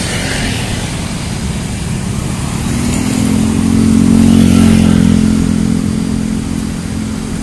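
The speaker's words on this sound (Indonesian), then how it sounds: "Banyak yang keluar menggunakan moge." Big motorcycles pass along a street outside the Indonesian parliament building during a large demonstration, a steady engine drone that swells to a peak midway and then fades.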